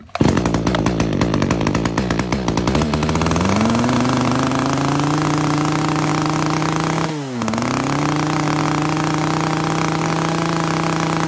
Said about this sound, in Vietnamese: Một con máy cưa Ryobi cho các bác về sử dụng gia đình, công suất của nó là cũng là 30cc các bác nhá